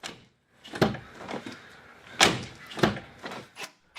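The front driver's door of a 2004 Infiniti G35X is opened and shut repeatedly after hinge work, giving several loud, close thuds and latch clunks spaced irregularly with quiet gaps between them.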